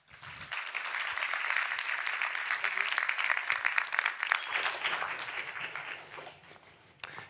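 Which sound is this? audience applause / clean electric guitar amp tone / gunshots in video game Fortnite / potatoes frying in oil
audience applause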